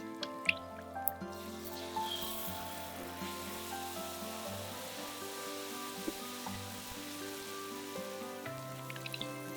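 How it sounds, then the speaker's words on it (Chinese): Prawn fritter batter frying in hot oil, a faint, continuous sizzle with scattered tiny pops and drips under a low steady background hum. "然后舀一勺面糊和几只虾淋在锅铲上， 再放入热油里炸。"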